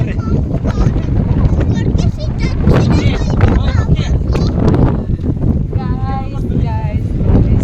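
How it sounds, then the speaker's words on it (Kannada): Wind gusting across the open Mandaragiri hills near Tumkur, a steady loud rush and buffeting against the microphone throughout, with people talking over it. "ಗಾಳಿ ಬೀಸ್ತಾನೇ ಇದೆ"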